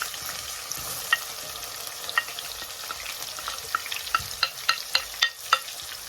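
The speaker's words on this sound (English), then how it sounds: "in goes our onions" Onions sizzle in a pan for Liberian chicken gravy, a continuous bright frying hiss with sharp crackles and pops growing more frequent toward the end, close and without talk.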